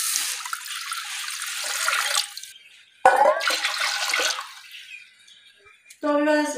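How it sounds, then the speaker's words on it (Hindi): Water pours into a clay cooking pot heating on the stove in a Pakistani village kitchen, in two steady rushing bursts with a short pause between. A voice speaks briefly at the end. "तो अब इसमें डालते हैं जी पानी भी"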